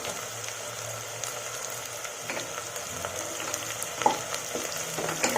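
Cut green chillies frying in a pan of oil for Tamil-style chicken gravy, a steady close sizzle with occasional crackles and a few light stirring clinks.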